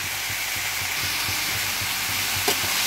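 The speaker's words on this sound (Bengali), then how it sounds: "এবার সিম আর আলুটা ভেজে নেব।" Flat beans and small chunks of potato fry in a pan for a curry, giving a steady close sizzle and hiss with faint periodic stirring, with no talk.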